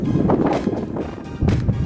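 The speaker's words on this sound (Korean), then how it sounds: "오늘 바람이 몹시 붑니다" Strong wind gusting across an outdoor farm site where a chicken coop and storage shed are being built, roaring in rough surges and buffeting the microphone.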